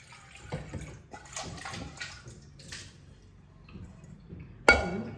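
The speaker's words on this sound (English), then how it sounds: "we wash them and immerse them in water to keep them fresh" Cut pieces of banana stem are washed by hand in water, with soft sloshing and splashing through the clip, some faint clinks, and one sharper splash near the end.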